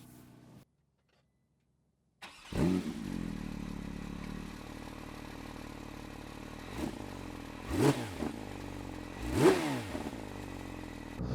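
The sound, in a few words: Porsche 911 sports car engine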